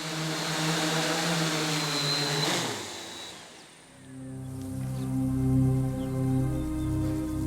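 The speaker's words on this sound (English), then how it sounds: "The helicopter has passed the flying test, but it may have noise issues." A helicopter flies over a stark, open Iranian landscape, its engine whine and rotor hum building, easing off briefly, then returning as a steady drone with tonal layers, moderately loud and unbroken by talk.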